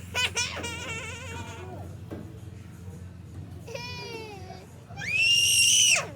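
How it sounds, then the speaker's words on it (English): A child lets out loud, high screams and squeals, close to the microphone, in bursts at the start, midway and a long sustained shriek at the end, with babbling between them. "why are you screaming?"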